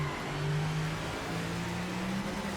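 Group C race car engine at a standing start in Project Motor Racing, a steady mid-pitched drone with a slight rise and dip in tone, close and continuous without pause.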